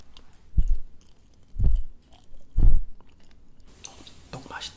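Chewy rice cake (tteok) is chewed very close in three distinct, soft, squishy bursts spaced about a second apart, with quiet whispering near the end.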